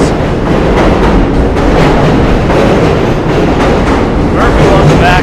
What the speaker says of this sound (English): There's a train, of course.